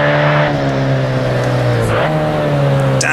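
Race cars in Assetto Corsa running side by side at the post-war German Prinzenpark circuit, a loud sustained engine drone with pitch shifts on gear changes and a second engine audible alongside.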